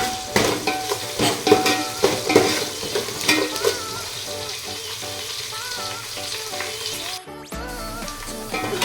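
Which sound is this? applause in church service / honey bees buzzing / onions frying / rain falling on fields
onions frying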